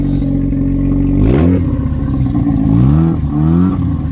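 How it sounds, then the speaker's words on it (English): Non-turbo Mazda RX7 rotary engine running with no Y-pipe or exhaust fitted, loud and close, idling roughly then revving up sharply twice with a raw, buzzing bark. "that is what a non-turbo RX7 sounds like without the Y pipe or exhaust"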